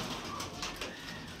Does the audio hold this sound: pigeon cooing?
yes